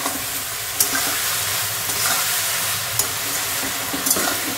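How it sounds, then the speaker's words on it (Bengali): Young pumpkin leaves frying in a pan give a steady close hiss of sizzling, broken by a few sharp stirring clicks, with no talking. "এই যে ভাজা ভাজা হয়ে এসছে।"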